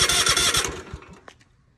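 A Toro zero-turn riding mower engine starting, a loud close cranking burst that catches briefly and then sputters and fades out within about two seconds.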